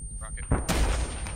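Rocket fire in the ArmA 3 combat game: a sudden loud blast with a booming low rumble lasts about a second, with no clear voice on top.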